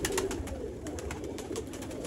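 Sialkoti black-faced pigeons coo softly in repeated low throaty calls, close by in a quiet loft with faint background hum.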